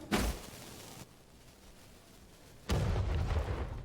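Two heavy bomb blasts from V Rising, a sharp boom at the start and another louder, longer rumble near the end, with a low hiss between them.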